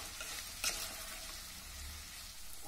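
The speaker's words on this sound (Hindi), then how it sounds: "हमारा ये प्याज गोल्डन ब्राउन भुन गया है बिल्कुल" Sliced onions fry and sizzle steadily in hot oil in a pan for dhaba-style chicken curry, with a brief clink of stirring, close and continuous.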